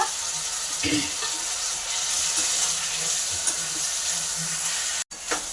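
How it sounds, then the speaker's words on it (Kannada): Tomatoes fry in an oiled pan with a constant close sizzle while a spoon stirs and scrapes now and then, a faint voice underneath and a brief cut near the end. "ಟೊಮೊಟೊ ಚೆನ್ನಾಗಿ ಸ್ಮ್ಯಾಶ್ ಆಗೋವರೆಗೂ ಬೇಯಿಸ್ಕೊಳ್ಳಿ ಫ್ರೆಂಡ್ಸ್."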